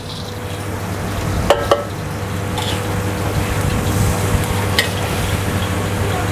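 A steady sizzle of green beans stir-frying in a hot pan, with a few sharp clinks of a utensil scraping and stirring.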